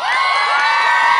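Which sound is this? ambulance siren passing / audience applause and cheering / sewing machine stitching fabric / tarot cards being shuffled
audience applause and cheering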